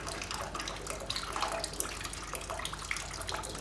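Whey running off freshly pressed Toma Ossolana cheese under stone weights, a steady trickling, splashing flow of liquid like a running tap, continuous and fairly close with faint bright drips throughout.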